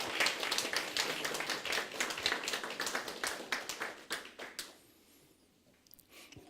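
A church congregation claps for missionary Grace Park and her daughter, rapid hand claps close and fairly quiet, continuing for several seconds before dying away to near silence.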